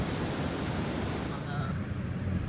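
Ocean waves breaking at Oceanside Pier, a continuous washing surf roar mixed with wind noise on the microphone.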